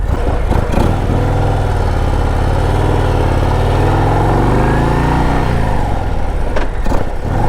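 A 2025 Harley-Davidson Road Glide CVO ST rides on the road, its engine a loud, steady low rumble that rises and falls through gears, close and continuous with wind noise and no talk.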